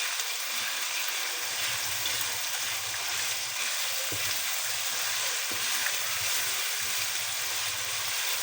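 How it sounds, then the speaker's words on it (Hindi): Chicken mince (keema) frying in a pan, a steady dense sizzle with occasional soft stirring scrapes, close and continuous throughout. "बस अब कीमे को मैं ज़रा पकने दूँगी"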